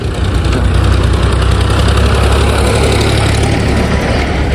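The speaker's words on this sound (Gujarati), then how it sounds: "તો જોઈ લો, આપણા ટ્રેક્ટરો ચાલે જ છે" Loud, steady diesel tractor engines chugging close by at a soil-hauling site, a dense low throb that holds constant with no talking.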